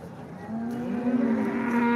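A cow at a cattle market moos in one long, loud, near call that swells and holds steadily, with faint market murmur beneath.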